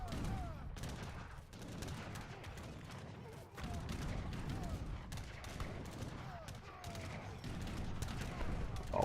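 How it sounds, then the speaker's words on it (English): Auger gun and other artillery firing in a real-time strategy game battle, a continuous barrage of rapid gunfire and cannon blasts with overlapping impacts, busy and loud throughout. "Oh, that auger gun just made so much damage."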